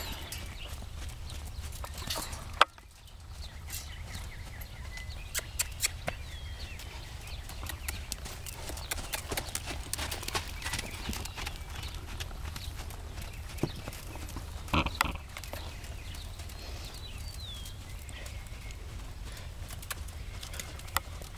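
Hooves of a roping horse clip-clopping at a steady walking pace, faint and continuous across a quiet outdoor background with occasional small knocks.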